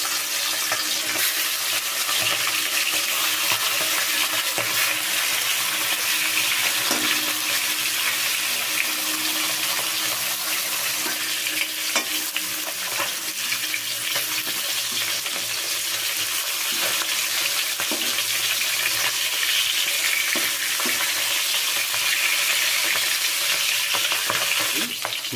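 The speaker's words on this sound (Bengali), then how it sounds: "মাছের মাথাগুলোকে আমি এবার ছেড়ে দেবো তেলে।" Hilsa fish heads frying in oil in a pan, sending up a continuous crackling sizzle close by, with scattered scrapes and taps as the pieces are stirred and turned throughout.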